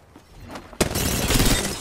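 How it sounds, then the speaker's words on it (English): Gunfire in Apex Legends erupts suddenly after a quiet moment, a loud, continuous rattle of shots close by that keeps going to the end. "Getting shot at."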